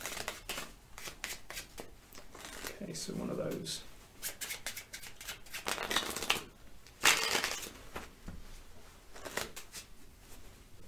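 Playing cards shuffled by hand, several quick papery riffles and snaps in bursts across the stretch, mixed with someone talking briefly.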